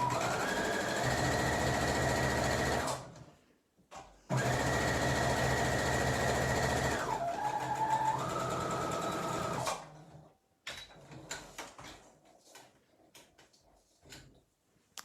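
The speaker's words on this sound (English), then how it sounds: "I'm going to do those securing stitches" A sewing machine runs in two close, loud bursts of rapid stitching, the second changing speed as it reverses for securing stitches, followed by light clicks and handling sounds.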